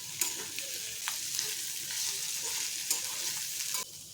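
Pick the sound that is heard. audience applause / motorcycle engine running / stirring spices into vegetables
stirring spices into vegetables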